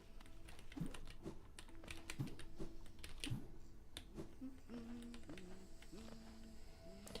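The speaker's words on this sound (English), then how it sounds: "I don't know if you can tell that I'm playing it on controller, or sorry, keyboard, because it's pretty loud." Computer keyboard keys clack in irregular bursts during game play, sharp close clicks and taps scattered over soft game music and tones.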